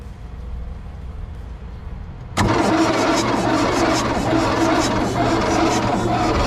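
An old Volkswagen diesel car engine, left unused for 25 years, cranks quietly against a low background, then abruptly catches and settles into a loud, steady, clattering run.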